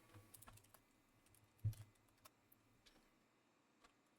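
Soft keystrokes as an ID is typed at a computer station in the game Rust, a quiet scatter of clicks with one firmer tap partway through.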